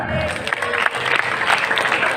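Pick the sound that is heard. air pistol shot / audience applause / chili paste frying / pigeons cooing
audience applause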